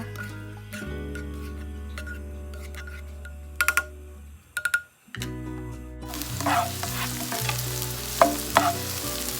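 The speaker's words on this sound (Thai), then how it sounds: "เอาหัวหอมซอยที่เราซอยไว้ลงไปผัดให้เหลืองเลยนะคะ" Sliced onions stir-frying in a little oil, sizzling steadily with a low hum, broken by a few sharp ticks and clinks of a utensil against the pan, then a brighter, louder sizzle as stirring continues.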